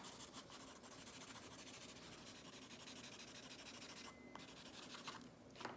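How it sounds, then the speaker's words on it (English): Faint, close scratchy rubbing as an eraser works over a pencil sketch of an apple on paper, in short strokes with brief pauses and no talking. "Bring my eraser in, and I can pull up that bright light."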